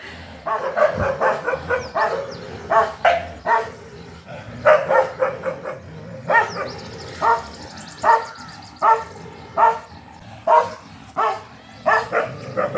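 Several dogs bark and yip in repeated sharp bursts while scuffling near an outdoor water tap, loud and close, with brief whimpers between barks.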